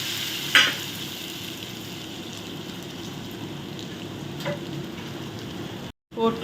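Boiled eggs fry in hot masala with garam masala and turmeric in a kadai, a steady close sizzle running throughout, with a few scraping stirs and a brief pause near the end.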